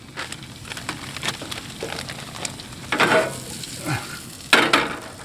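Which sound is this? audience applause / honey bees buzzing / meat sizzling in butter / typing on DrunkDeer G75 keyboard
meat sizzling in butter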